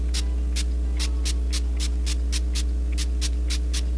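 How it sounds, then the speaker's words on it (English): Short bursts from a Farsali facial mist spray bottle, about a dozen quick hissing puffs in a loose rhythm, close and fairly loud over a steady low electrical hum, with no talking. "I'm gonna use my Farsali spray again, just to make sure that I'm well hydrated."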